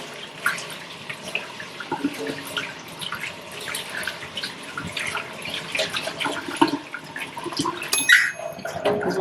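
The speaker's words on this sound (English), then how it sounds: "I'm going to make sure I wash my hands on camera" A sink tap runs water while hands are washed in a home kitchen, a steady splashing stream with scattered drips and clinks, close and fairly loud, no talking.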